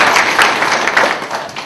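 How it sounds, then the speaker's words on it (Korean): Audience applause at an international IP symposium welcoming a company executive to the podium, a dense, steady wash of clapping from many hands, fairly loud and close, running alone throughout. "박수로 환영 부탁드립니다."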